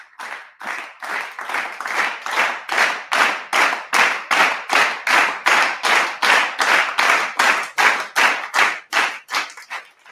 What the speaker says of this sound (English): let's give them an amp clap for this one